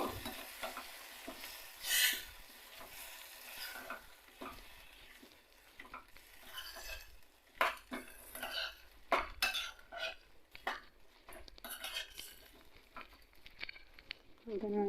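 Pounded raw cucumber chutney gets stirred and mixed in a pot, with uneven scraping and clinking of a utensil against metal, close and fairly loud, with faint voice at times.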